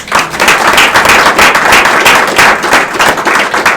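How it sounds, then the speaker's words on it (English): A room of people applauding a new member orientation class during a state government session, a dense, steady wash of many hands clapping at close range, sustained evenly without pause. "Give yourselves a round of applause."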